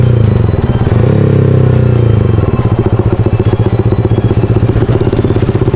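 A motorcycle engine revs up loud and close, the pitch climbing and then settling into a rough, pulsing rumble with rattly clatter.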